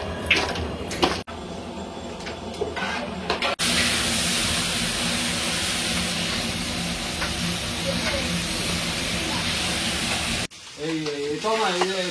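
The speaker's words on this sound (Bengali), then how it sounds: "এখন দুজন মিলে আলু ভাজছে।" Potatoes frying in oil as two people cook together, a steady loud sizzle and hiss lasting most of the stretch, with brief stirring and voices before and after.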